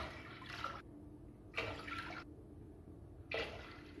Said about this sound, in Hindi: यहाँ पर ले रही हूँ सॉसपैन में मैं ऐड कर दूँगी 4 कप पानी के।